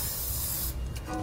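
An aerosol spray can hisses steadily onto an exhaust hanger under a 2017 Toyota during a trailer hitch install, one continuous close burst that cuts off near the end.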